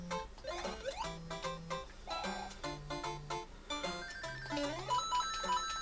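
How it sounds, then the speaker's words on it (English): A phone and a tablet ringtone go off together, a melodic electronic tune of repeated tonal notes and chords playing continuously for several seconds at moderate loudness, with no talking. "That was my phone and my tablet that went off."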